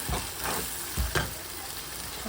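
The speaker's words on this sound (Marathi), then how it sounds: "छान तेल सुटेपर्यंत आपल्याला भाजून घ्यायचे" Masala roasts in oil for a Khandeshi sev bhaji, giving a steady close sizzle while a utensil stirs it. Several louder scraping strokes against the pan land at intervals over the frying.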